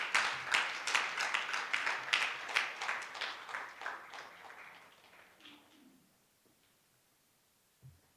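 An audience at a women's leadership conference claps in a steady round of applause that fades out over several seconds and is followed by near silence and a soft thump.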